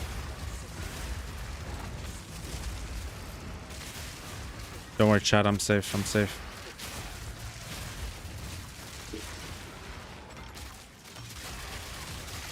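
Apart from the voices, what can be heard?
fireworks going off outside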